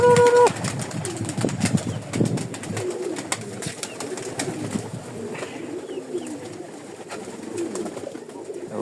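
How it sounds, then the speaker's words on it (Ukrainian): Pigeons, including young birds, coo softly in a coop on a windy day, with low burbling calls, occasional wing flaps and rustling, close by and continuous beneath wind noise. "Голубенята."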